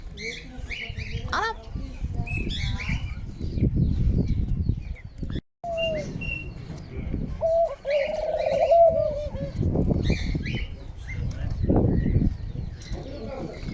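Chukar partridges call repeatedly over a noisy outdoor background, their clucking notes mixed with other bird sounds, a rooster nearby, while people talk nearby.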